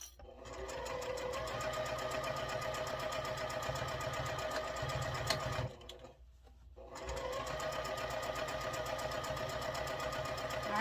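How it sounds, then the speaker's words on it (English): A sewing machine stitches fabric in a fast, steady mechanical whir, stops briefly for a back stitch, then resumes its rapid rhythmic running, loud and close. "Just a few stitches, back stitch really well."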